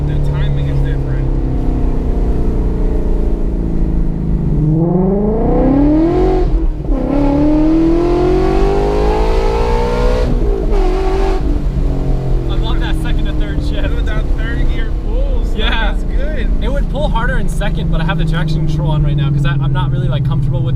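A V8 car engine revs hard and loud, its pitch sweeping up and falling back in repeated climbs, close and continuous throughout.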